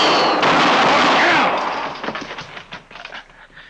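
Gunshots from a radio Western drama: a loud burst of gunfire up front, then a rumbling echo that fades into scattered smaller cracks and thumps.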